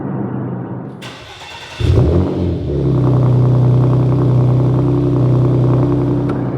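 A Porsche Macan Turbo with a resonated muffler bypass exhaust cold-starts: a brief starter whir, then a sudden loud bark as the engine catches, settling into a deep, steady, close-up rumbling idle.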